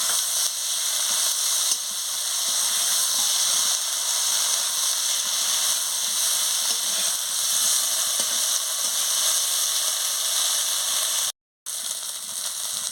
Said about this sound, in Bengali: দিয়ে ভালো করে মাছের সঙ্গে নাড়িয়ে নিচ্ছি।